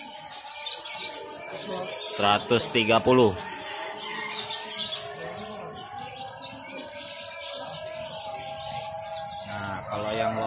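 Bonbon-coloured canaries chirp and trill repeatedly nearby at a bird market in Pramuka, bright bursts of song over a busy background while someone speaks briefly.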